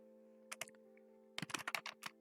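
C++ code is typed on a computer keyboard in a quiet room, a short burst of keystrokes, a pause, then a faster cluster of crisp, close clicks over a faint steady hum.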